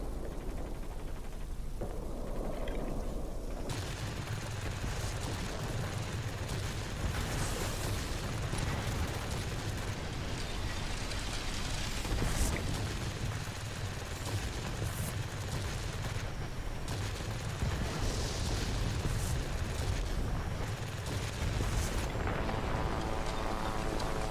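Rocket and bomb explosions from a World of Warplanes ground attack by a Russian Ilyushin attack aircraft, a dense, continuous roar of blasts and rumbling booms over steady engine drone, loud throughout with no pauses.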